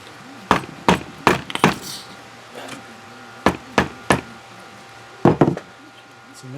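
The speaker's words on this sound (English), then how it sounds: "Now I just got to hammer it on past that spring." A CV boot hammered onto an Audi Q5 axle, a series of sharp, close metallic strikes in quick bursts of two to four, with short pauses between groups.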